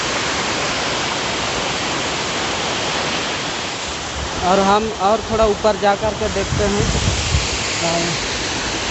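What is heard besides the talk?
Khandadhar waterfall in Odisha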